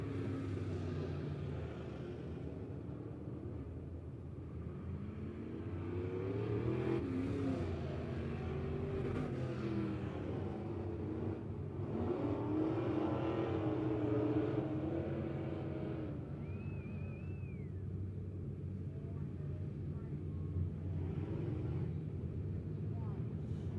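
Race cars circle the track at Lebanon Midway, their engines a distant, continuous rumble that swells and fades as they pass, under steady talk from an announcer.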